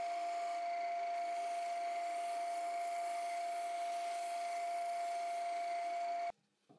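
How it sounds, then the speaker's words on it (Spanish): A disc sander works a homemade wooden table-saw insert, giving a steady, close whirring hum with a sustained whine. It runs evenly for about six seconds, then cuts off abruptly, leaving near silence. "Terminaré de ajustar el corte con el disco de lijado."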